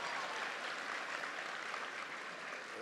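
A large audience at a high school commencement keeps up steady, faint applause for the Tennessee governor, a continuous wash of clapping heard from a distance.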